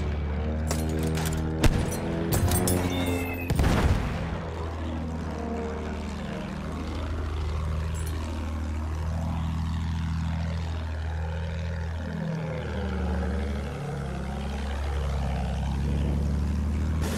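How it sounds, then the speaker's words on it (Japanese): Droning propeller engines of an enemy bomber passing overhead in Battlefield 1, a steady loud hum with slowly wavering pitch, preceded by a couple of sharp gunfire bursts early on. "敵の爆撃機だ。 上にいる。"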